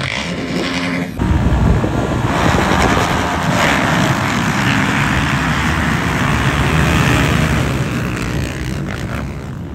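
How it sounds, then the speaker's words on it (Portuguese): Strong wind roars and buffets the mic for the whole stretch at a motorcycle race track, loud and steady, with a rumble of engines mixed into the gusts. "tá ventando muito"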